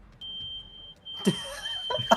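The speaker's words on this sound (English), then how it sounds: "The android starts beeping loudly." In the video game Volition, an android gives off a steady high electronic beep that holds for about a second, then a burst of louder, harsher synthetic tones and noise follows, fairly close and with no talking over it.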